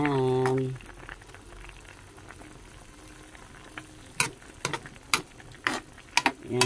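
A stew of opo squash, chicken and tofu boils in a pot with a soft bubbling simmer, broken by sharp clicks and taps of a utensil against the pot, after a brief bit of talk at the start.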